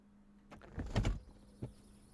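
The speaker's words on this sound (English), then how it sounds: "So let's open the door." A Carenado Seneca V aircraft door opens in Microsoft Flight Simulator 2020 with a brief mechanical whir and thump, followed by a softer click, quiet over a faint steady hum.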